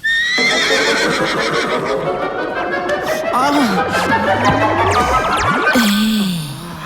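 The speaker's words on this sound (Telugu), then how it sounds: "నీ గుర్రం సౌండ్ కేక నాకు బాగా నచ్చింది" A loud, close horse whinny, long and quavering, rising and falling in pitch before trailing off.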